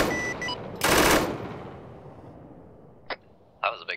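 A single loud, sharp gunshot in the military shooter Arma 3 cracks close by and then decays into a long fading echo, followed by a few short clicks and brief quiet noises.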